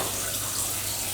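Cool water runs steadily from a tap in a baking kitchen, a constant close, loud hiss with no pauses.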